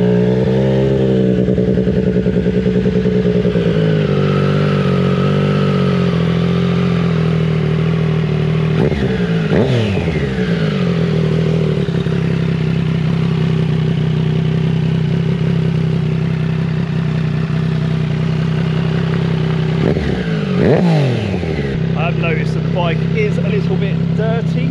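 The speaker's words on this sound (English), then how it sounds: "So how about I turn the bike on, start it up, and let you hear it." A Triumph Street Triple 765 RS with a Leo Vince exhaust, baffle removed, idles loudly with a steady throb and is revved sharply twice, each blip rising and falling quickly before settling back to idle.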